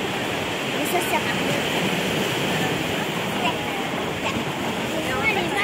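Constant broadband rush of surf, steady and loud throughout with no distinct breaks between waves.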